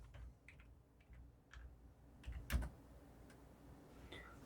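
Someone types a short search on a computer keyboard, a few faint, scattered key clicks close by, with one louder tap partway through, in a quiet room.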